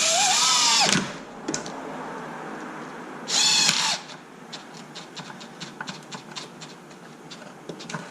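Electric impact gun tightening bolts on an XMAXX 8s RC car during a rebuild, two loud close whirring bursts of about a second each, followed by lighter clicks and tapping of parts being handled.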